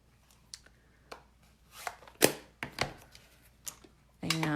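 Scissors fussy cutting a sentiment printed in red on white cardstock: a handful of sharp, separate snips at irregular intervals, close and fairly quiet, ending in a louder burst of handling noise.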